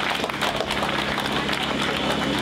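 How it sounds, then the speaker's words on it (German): Applause from a crowd at an outdoor demonstration against Article 17, dense and steady clapping and cheering throughout, loud and close with no pauses. "erstmal einen großen Applaus dafür, dass einfach so viele Leute mithelfen"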